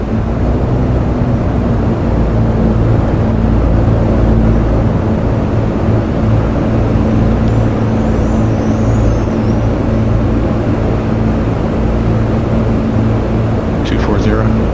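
Spitfire engine, clipped or elliptical-wing version, running at full throttle in DCS World during a speed race, a loud, close, unbroken roar holding steady for the whole stretch.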